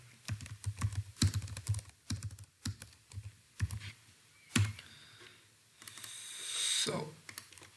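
Irregular bursts of clicking keystrokes on a computer keyboard, close and fairly quiet, with brief pauses between runs and a rustling shuffle near the end.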